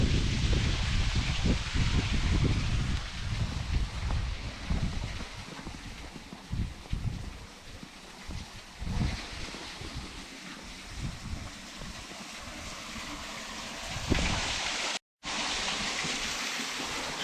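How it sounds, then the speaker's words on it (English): Water rushing down into a stone waterwheel pit at an abandoned 1800s farm mill in Scotland, a steady broadband roar with gusting wind buffeting the microphone and a brief dropout near the end. "it sounds like there's a fair flow of water going down there"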